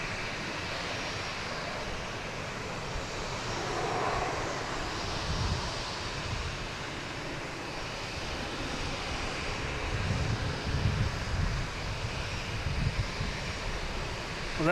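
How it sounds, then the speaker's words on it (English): A Delta Airbus A321 from Atlanta comes in to land at Boston Logan, a rumbling, fluctuating engine roar with wind-like rush that grows louder toward the end, no voices present. "We got a Delta coming in from Atlanta. An A321, flight 726."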